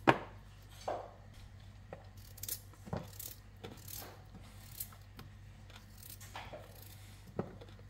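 A knife cuts vegetables and potatoes for chicken with potatoes and peas in a home kitchen, making sparse, irregular taps and chops on a board that are soft and close, with no talk.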